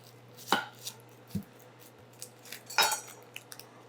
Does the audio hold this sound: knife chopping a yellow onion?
yes